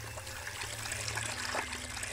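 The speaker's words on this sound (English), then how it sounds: "Turn on the faucet." Steady trickle of water from a faucet in a creepy horror video game, a continuous soft running stream heard alone at close range.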